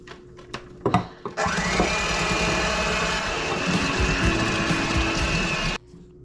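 Electric mixer whipping an eggnog mixture with nutmeg, switching on after a few clunks and running as a steady loud whir with a rising whine, then stopping abruptly.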